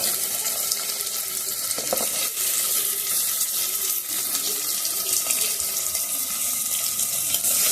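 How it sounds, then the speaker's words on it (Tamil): Onions frying in hot oil for a fish curry, a loud, continuous, close sizzle with a brief clink of stirring, heard alone. "இப்போ வந்து நான் வந்து வெங்காயம் போடுறேன்."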